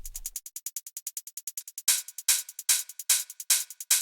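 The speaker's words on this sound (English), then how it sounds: "A fast 1/16 note rolling closed head." Rapid sixteenth-note closed hi-hat ticks repeating evenly, then brighter, louder hat hits on a broader beat pattern, crisp and dry with no voices.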